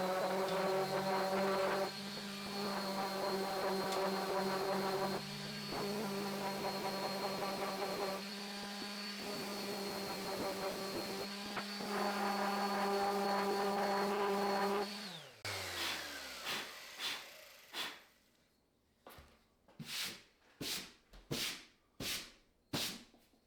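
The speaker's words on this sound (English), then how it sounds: "hit it with a light sandpaper on our sander and get everything nice and smooth" Electric sander runs steadily on scrap wood with a loud whine, briefly easing off in places. It winds down near the middle, followed by a series of sharp, evenly spaced knocks or taps at the end.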